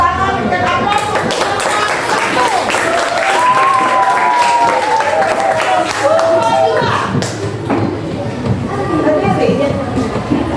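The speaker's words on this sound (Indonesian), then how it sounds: "kita tepuk tangan dan aplaus" A crowd applauds and claps steadily and loudly for the full stretch at a school teachers' gathering, with children's voices and chatter mixed in and rising over the clapping.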